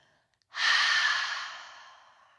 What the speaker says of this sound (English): This time, let out a nice big exhale with me.